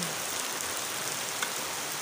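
Heavy rain falls in a steady, dense hiss with no pauses, close and even throughout, with no voices.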